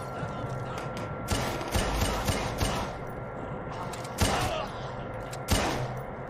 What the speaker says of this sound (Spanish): voy a empezar a pegar los tiros y ya está